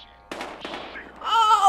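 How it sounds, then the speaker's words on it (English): Gunfire in the video game Battlefield Hardline, two sharp reports in quick succession followed by a rising wail-like tone, short and moderately loud. "We've got gunshots."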